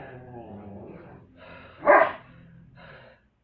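Dogs bark in one sharp, loud burst amid mixed voices and speech.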